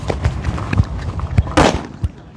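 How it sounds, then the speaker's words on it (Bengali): Sodium metal dropped into hydrogen peroxide sets off a string of sharp crackling pops, then one much louder burst roughly two-thirds of the way through, followed by a few more snaps, all close by. "মাগো, এটা সব থেকে জোরে ব্লাস্ট হয়েছে।"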